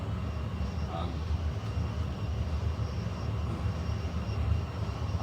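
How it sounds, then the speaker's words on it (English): A wood lathe turns slowly, around 400 RPM, while rough-turning a large live-edge bowl, producing a steady, even low rumble and drone throughout. "the lathe is running really slow."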